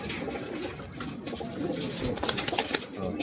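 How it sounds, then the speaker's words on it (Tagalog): A racing pigeon coos softly outdoors, its low calls faint beneath steady background noise. "Ayan, ayan yung ibon."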